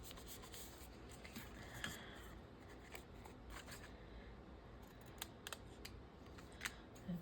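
Scissors snip through lace on a handmade witch-themed craft project in purple and teal, a run of faint, close, crisp cuts at an uneven pace against quiet room noise.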